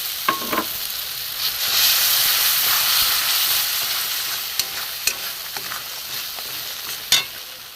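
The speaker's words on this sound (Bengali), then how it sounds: "মশলাটা একটু কষিয়ে নেব।" Spice masala with cashew paste sizzles and fries steadily in a pan, a loud continuous hiss close by, broken by occasional sharp scrapes and taps of a spatula stirring.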